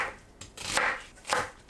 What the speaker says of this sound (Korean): 양파는 두툼하게 채 썰어주세요